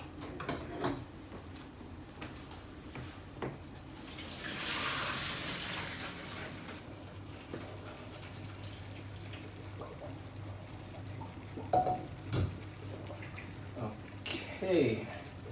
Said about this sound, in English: drain the water from the spaghetti